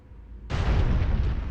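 A cannonball explosion from the video game Sly 3 bursts in suddenly after a quiet moment and then roars on as a loud, sustained rumbling blast with no talking.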